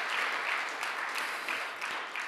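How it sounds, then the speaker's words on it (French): Audience applause at a regional conference day in France, a steady dense clapping that fills the whole stretch at moderate level with no talk over it. "on peut l'applaudir"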